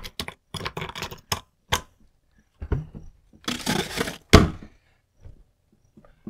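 A homemade ice block, frozen overnight in a SetPower AJ40 compressor cooler, knocked and cracked: a fast burst of sharp, hard knocks, a pause, then heavier thuds and a crunching crack, all close and distinct.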